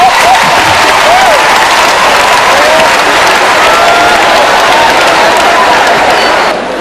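A live crowd at a French comedy show bursts into loud, sustained applause and cheering, steady from start to finish before easing slightly at the very end.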